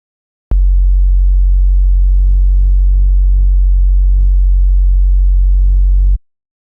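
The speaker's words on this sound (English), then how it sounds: "I then have oscillator B providing a bit of buzz." A deep synth oscillator note drones with a slightly buzzy, harmonic edge, sustained evenly for about six seconds before stopping suddenly.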